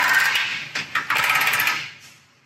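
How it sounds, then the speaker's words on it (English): Power tool or ratchet snugging the lower bolts of a Dissent LC100 modular rear bumper, a close high-pitched whirring burst broken by a few brief stutters, then fading out. "we're going to snug these lower bolts up, starting with the forwardmost bolt"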